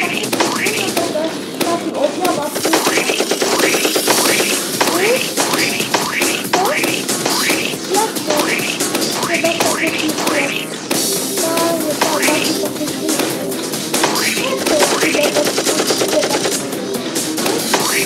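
Rifle gunfire in a prison escape video game, rapid repeated shots crackling steadily over a long stretch with some talk in the background.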